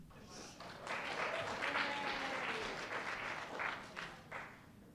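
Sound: audience applause

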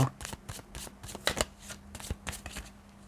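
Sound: shuffling fortune-telling cards

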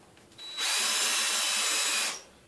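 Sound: power drill drilling into board

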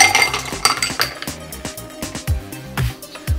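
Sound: Long Island cocktail poured back into pint glass

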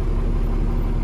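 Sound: classic tractor engine running

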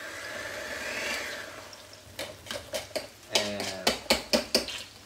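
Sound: chopping food at low speed

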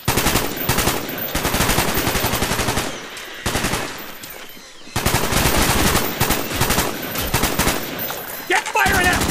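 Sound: gunfire in video game Call of Duty: Black Ops

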